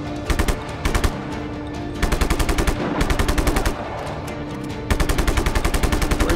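Automatic weapon fire in the Just Cause 3 video game comes in several rapid bursts separated by short pauses, loud and close, with no talking over it.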